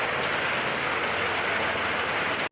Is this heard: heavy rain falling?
yes